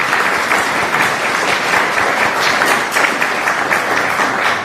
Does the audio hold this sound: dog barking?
no